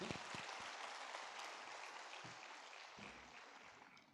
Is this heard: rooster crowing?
no